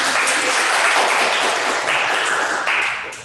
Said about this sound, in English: one more round of applause for Lilith